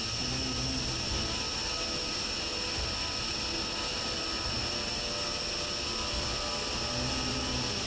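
A jet aircraft taxiing in a combat flight game, a steady loud engine whine and broadband roar holding constant throughout with no talk.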